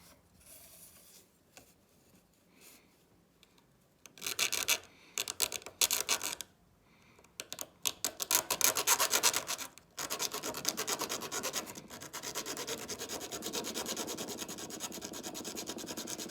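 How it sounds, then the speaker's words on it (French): Metal rivet tops on hinges being filed down by hand, bursts of rasping strokes that turn into a steady, close scraping run, with quiet handling noises in the pauses. "Je vais maintenant limer leur partie supérieure de telle sorte que ça dépasse à peu près d'1 millimètre par rapport à la plaque"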